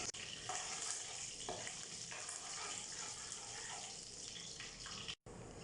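Mustard seeds, urad dal and chana dal sauté in a pan with a steady, close sizzle and occasional stirring scrapes, no voices.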